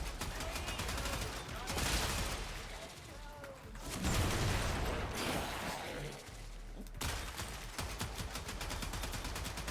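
Rapid automatic fire from the Gorgon, a heavy spin-up machine gun in Warframe, rattling in long sustained bursts with brief pauses, loud and dense, mixed with game effects and some speech.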